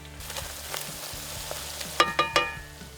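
Gravy with black pepper sizzles and fries softly in a pan while being stirred, with a few sharper scraping clinks of the utensil against the pan toward the end; no talking.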